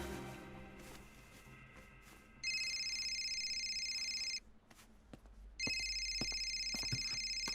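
A telephone rings in two long electronic bursts separated by a short pause, clear and fairly close, with faint background sounds of a room between rings and no speech.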